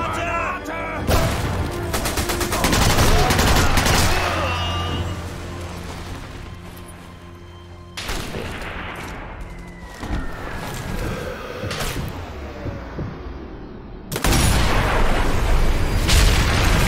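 Sniper Elite V2 Remastered gameplay gunfire: repeated loud bursts of shots and booms in two dense stretches, separated by a quieter lull with a faint whine, all fairly close and without talk.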